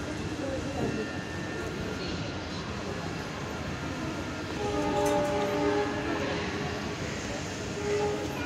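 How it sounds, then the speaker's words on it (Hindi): A train at Indian suburban railway station, with AC local and regular local trains on the platforms, rumbling steadily with a faint horn-like tone midway, heard amid general station noise. "ये सेंडसर रेलवे स्टेशन"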